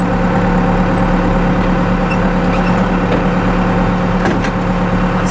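A Cummins 4BT diesel engine idles at around 900 RPM, a steady, loud, even rumble with a low throb that holds unbroken, joined near the end by a couple of faint clicks.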